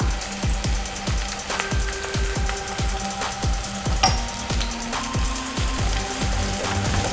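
Onions and ginger garlic paste sizzle and crackle steadily in a hot pan, a continuous frying hiss with repeated sharp stirring scrapes and taps close by, and no talking.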